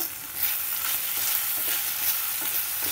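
Sliced okra (bendakaya) with salt and spice powder frying in a pan as it is stirred, a steady close hissing sizzle with faint scraping pulses throughout.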